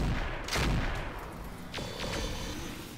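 Gunfire in the tactical shooter Roguepoint, with a couple of sharp shots and bursts cutting through a busy, dense game soundscape of steady background noise.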